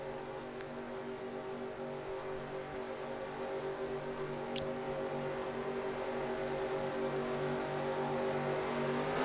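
Engines of F1 race cars in a racing video game drone steadily as the field restarts at the South African Grand Prix at Kyalami, a dense layered hum that swells slightly toward the end, with no talk.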